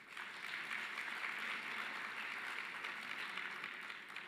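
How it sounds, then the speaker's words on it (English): An audience claps steadily at a formal education sector gathering, a dense even wash of applause heard from some distance that holds at a constant level and fades slightly at the end. "Can you please give him a round of applause?"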